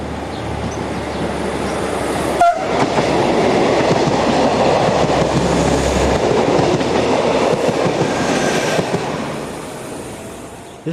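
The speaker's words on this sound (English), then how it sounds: "This pair of units is seen arriving from the Ternier direction and crosses the junction with the lines to and from Paris" Two railway multiple units running together arrive and cross a junction with the lines to and from Paris, giving a loud, steady roar of wheels and rail clatter that swells and lasts throughout, with no talk.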